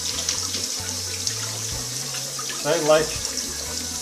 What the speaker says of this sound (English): I'm just going to wash the skin